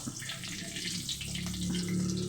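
Chopped garlic and ginger hit a hot pan for a Kerala-style egg roast and are stirred, giving a steady broadband sizzle with faint scraping, growing slightly louder toward the end, no voices.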